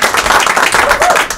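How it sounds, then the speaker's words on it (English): A comedy club crowd applauds comedian Dave Bartlett, a loud, close burst of many hands clapping at once that rises and falls over a second or so. "please give him a nice round of applause"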